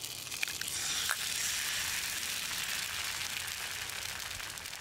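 A frying pan sizzles on a red-hot stove element while breakfast cooks, a steady broadband hiss that holds level throughout with one brief crackle near the start.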